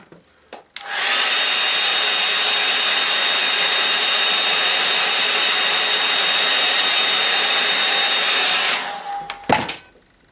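A hair dryer blows steadily to dry a watercolour painting of a woodland stream, switched on with a click and running loud and constant for about eight seconds before being turned off.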